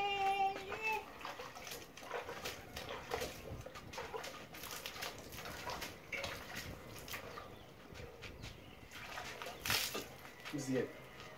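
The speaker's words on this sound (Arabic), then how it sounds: "دابا ان شاء الله غنفزك داك البلاصات ديال الكراس نفزكهم بالماء" Water poured and splashed over spots of a home wall or floor to wet them before masonry work, a steady wash of splashing with faint background voices and noise throughout.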